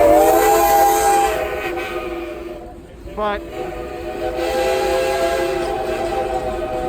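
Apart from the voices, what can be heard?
steam train with whistle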